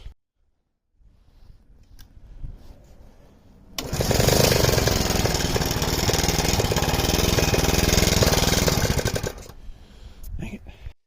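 A small go-kart engine on half choke coughs into life, runs loud and rough for several seconds, then sputters and dies, with brief quiet talk before and after.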